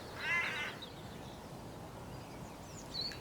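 A crow caws once, hoarse and somewhat distant, over a quiet outdoor background, with another faint call near the end.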